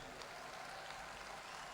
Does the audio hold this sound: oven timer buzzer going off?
no